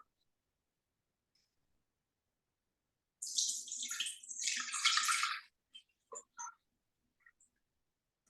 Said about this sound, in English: It's telling me to put 500 grams of water.